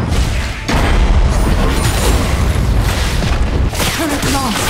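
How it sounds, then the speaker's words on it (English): A turret exploding in the mobile game Wild Rift, a loud booming blast and crashing rumble under game voice announcements, with dense battle effects layered throughout. "Enemy turret destroyed."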